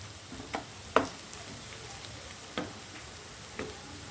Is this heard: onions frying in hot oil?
yes